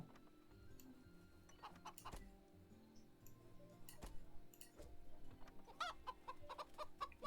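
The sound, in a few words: chickens clucking in a video game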